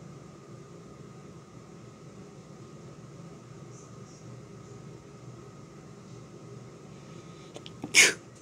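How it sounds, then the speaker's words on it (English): Quiet background hum with a single sharp sneeze bursting out near the end, close and sudden. "Sorry, sneezing."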